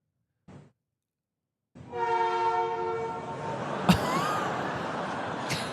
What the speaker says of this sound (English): Is that actually a train?